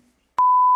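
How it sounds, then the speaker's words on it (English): A loud censor beep, a pure steady tone that starts abruptly after a short silence and holds for about half a second, covering a shouted word. "The beep doesn't really portray like how loud it was yelled at them"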